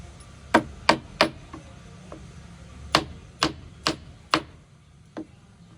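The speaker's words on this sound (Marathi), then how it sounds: "दुसरा खिळा ठोकूया आपण तिथं" A nail is hammered into wood while a counter is being built, heard as a series of sharp, close blows in uneven clusters, about a dozen strikes over several seconds, some quieter taps between them.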